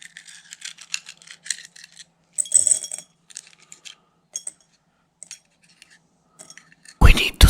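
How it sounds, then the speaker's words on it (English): Removed screws from a flat screen TV being handled during a TV teardown, making sparse, close metallic clicks and light rattles in short irregular bursts separated by silence, ending in a louder shuffle. "We need to set aside all the screws that we removed so far"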